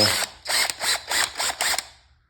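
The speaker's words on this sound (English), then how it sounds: "I lock it in a drill like this, tighten the chuck down really nice and tight. I set it to screw mode." A cordless power drill set to screw mode on its lowest clutch setting slips repeatedly, giving six even bursts of loud ratcheting clicks with short pauses between them, heard close and alone.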